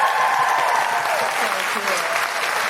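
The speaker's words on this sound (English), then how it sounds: "a huge round of applause for Rachel Wiseman and Clare Mac Cu" A live comedy show audience in Newcastle applauds the performers, a loud, continuous wall of clapping with some cheering voices woven through.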